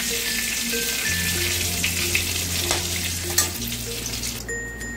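Whole garam masala (cloves, cinnamon and cardamom) sizzles steadily in hot oil for a vegetarian dhoka curry, a dense close crackle with a few stirring clicks and a low steady hum underneath, no voices.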